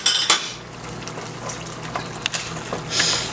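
Cornmeal cou-cou with okra being stirred in a pot, a faint scraping and clinking of the utensil against the pot, with soft wet stirring sounds and a few sharper knocks.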